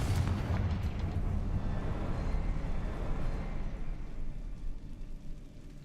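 A Confringo fire spell from Hogwarts Legacy bursts against spider webs, producing a low rumbling blast that fades gradually over several seconds and is heard alone.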